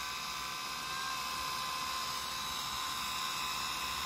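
Electric wine bottle opener motor pulling a cork, a steady, faint high-pitched whirring that runs continuously.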